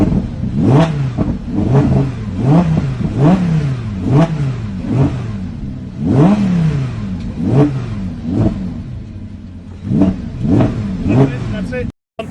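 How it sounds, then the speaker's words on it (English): A 2017 Lamborghini Huracan LP580 engine blips repeatedly, about ten sharp, loud revs close by, each rising and falling quickly, with brief voices in between. "Just rev it."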